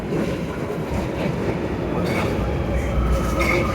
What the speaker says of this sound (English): Then I took the metro